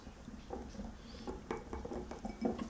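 Adobo sauce and apple cider vinegar being stirred together in a bowl, quiet rhythmic clinks and scrapes of a utensil against the bowl, close and soft, without speech.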